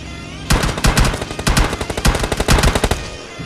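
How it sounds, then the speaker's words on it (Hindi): Rapid automatic gunfire in a battle royale video game rattles off in loud, dense bursts at close range, fired at a player driving a buggy, with no talking. "तभी कोई आप पे गोलियां चलाना स्टार्ट कर दे"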